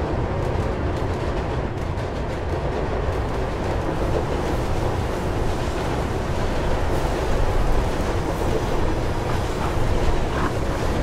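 A train rushes past in the first-person parkour game Mirror's Edge, a loud continuous roar of rumbling wheels and buffeting wind filling the whole stretch without letup.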